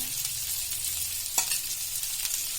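Prawns fry in oil on a tawa, a faint steady sizzle with one brief scrape or tap near the middle as they are turned, with no voices.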